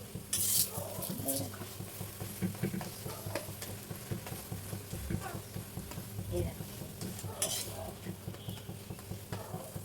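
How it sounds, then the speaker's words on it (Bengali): Lachha paratha frying on a tawa over a gas flame, with a soft sizzle under repeated scraping and turning strokes from a spatula, while a voice talks intermittently nearby. "এই এইবার ভেজে নেবো লাচ্চা পরোটা ঘুরিয়ে ঘুরিয়ে।"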